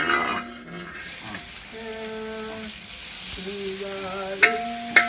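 Onions with cinnamon, cardamom and star anise fry and get stirred in a pan for a Mughlai chicken gravy, giving a steady close sizzle with scraping stirs and sharp clinks near the end, with faint tonal notes behind.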